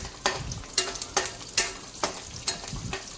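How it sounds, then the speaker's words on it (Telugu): Peanuts frying in a pan for gongura pickle, stirred in regular strokes: rhythmic scraping swishes about every half second over a faint steady sizzle, close and clear with no voices. "పల్లీలు యాడ్ చేసుకున్న తర్వాత ఇక్కడ బాగా ఫ్రై చేసుకోవాలి"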